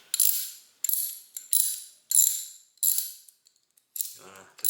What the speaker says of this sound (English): So first I'm going to take this guy, which is the socket wrench.